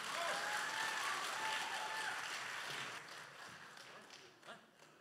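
Audience applause at a church Lunar New Year gathering in New York, a dense steady clatter of many hands that fills the room, then thins and fades over the last seconds.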